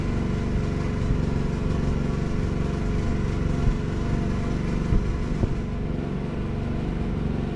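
An 8750W Motor Snorkel tri-fuel generator running on propane drones loudly and steadily, its engine straining under load with an even, unbroken rumble at close range.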